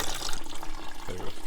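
Coolant water drains from the radiator drain plug of a Firebird, a steady splashing trickle close by, alone without talk.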